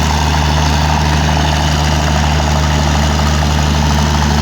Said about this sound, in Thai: คันใหญ่ที่เสียงมันน่ากลัวจริงครับ